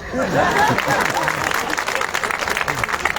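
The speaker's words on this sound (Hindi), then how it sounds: "कानों में आकर कहूँ कि ताली बजाओ?" Crowd clapping at a Teej fair stage show in Sirsaganj, a short burst of dense applause that rises early and holds steady, with voices and crowd noise mixed in.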